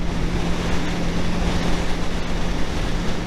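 Kawasaki Ninja 650 motorcycle cruising on an interstate in 6th gear at about 5,500 RPM, a steady broadband roar of engine and heavy wind rush, continuous and loud with a faint low engine hum underneath.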